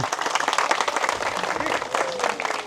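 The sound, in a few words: audience clapping together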